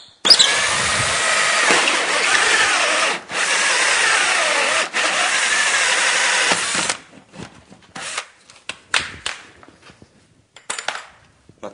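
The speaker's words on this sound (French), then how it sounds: "Donc là j'utilise une scie cloche de 67." A loud, steady grinding drone of a 67 mm hole saw boring through material for about seven seconds, briefly pausing twice, then stopping into scattered clunks and scrapes.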